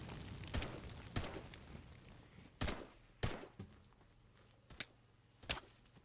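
Gunfire in the video game UAYEB sounds as sharp, isolated cracks, about eight spaced shots over a quiet low hum, faint and somewhat distant.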